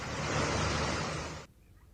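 High waves crash on the shore at Dwarka amid strong wind, a loud, dense roar of surf that holds for about a second and a half and then cuts off abruptly into near quiet.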